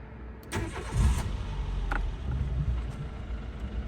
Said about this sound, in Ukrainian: зверніть увагу, як гарно заводиться двигун